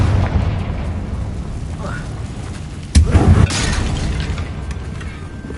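A Confringo spell explodes in Hogwarts Legacy: one sharp, loud boom bursts out midway, standing out from steady game ambience before it quickly settles.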